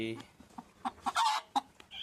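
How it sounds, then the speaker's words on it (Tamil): A hen clucks in short bursts close by, with one louder squawk mid-way, over a quiet background. "புதுக்கோழி"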